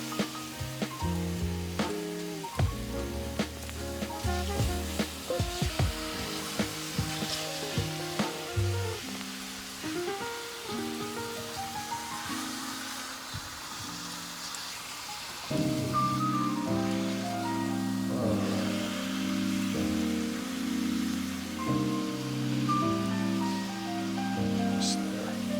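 Skirt steak sizzles as it cooks, giving a steady hissing fry that runs under prominent background music throughout.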